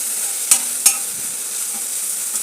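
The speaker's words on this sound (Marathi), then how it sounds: "मिरचीचा कच्चापणा जाईपर्यंत आपल्याला याला परतून घ्यायचं आहे." Green chili and garlic paste sautéing in oil, a steady soft sizzle broken by two sharp spatula scrapes early on, then a quieter hiss, close up with no voices.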